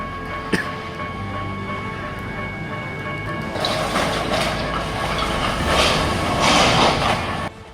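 A train rolling through rail crossing number 20 and smashing its safety gate, a steady rumble with a sharp knock near the start, swelling louder and harsher midway through before cutting off abruptly at the end.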